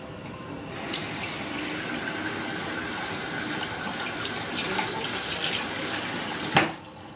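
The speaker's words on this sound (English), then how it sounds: "I need to go wash my hands." Water running steadily from a tap during hand washing, a continuous close splashing stream that ends with a sharp clunk as it is turned off.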